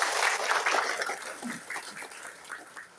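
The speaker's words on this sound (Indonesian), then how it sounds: "Aplaus buat kita semua." Audience applause at a motivational team gathering, a dense burst of clapping from a crowd that is loudest at first and then gradually thins and fades.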